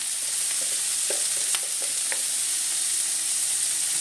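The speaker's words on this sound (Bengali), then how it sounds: "এখন দিচ্ছি জিরে গুঁড়া" Ground cumin hits a little hot oil in a pan and sizzles steadily and loudly up close, a dense frying hiss with faint stirring scrapes and no talk.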